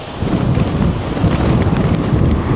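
Strong wind roars and buffets continuously, a dense low rumble like gusts hitting the microphone, with no voices.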